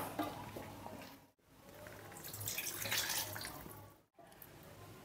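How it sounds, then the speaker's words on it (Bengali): Water poured into a pot of chicken chaap gravy from a rinsed container, a steady broadband splashing pour with brief breaks, close and fairly loud. "পাত্রটা ধুয়ে 1 কাপের মতো জল এর মধ্যে অ্যাড করে দেবো।"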